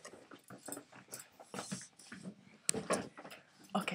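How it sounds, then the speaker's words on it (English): A pet dog named Louis whimpers and yips in short, faint bursts close by, with a person talking softly between the cries and a brief knock partway through. "Okay, that's my doggy."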